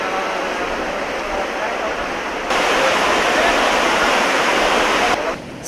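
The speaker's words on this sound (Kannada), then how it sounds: "ಮಲಪ್ರಭಾ ನದಿ ಕೂಡ ಈಗ ಅಪಾಯದ ಮಟ್ಟ ಮೀರಿ ಹರಿತಾ ಇರುವಂತದ್ದು." The Malaprabha river in Karnataka, flooded above danger level after heavy rain, rushes with a loud, continuous broadband roar of turbulent water that swells partway through and then drops slightly.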